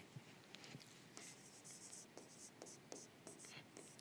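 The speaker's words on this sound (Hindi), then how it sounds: "यहां लिखते हैं" Pen or marker writing on a board during a live maths class on quadratic equations, quiet scratchy strokes in short bursts with pauses, faint and close.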